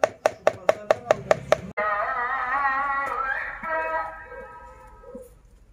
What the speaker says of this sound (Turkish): Şimdi ben domatesleri doğrayacağım.